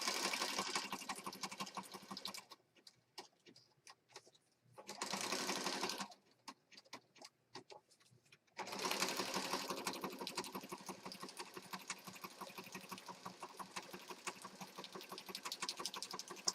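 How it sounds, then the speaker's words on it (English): A sewing machine stitches across the top and around a small paper tag for a junk journal, running in steady bursts of close, rattling stitching separated by short pauses. "I'm going to stitch across the top here and then go all the way around my little tag."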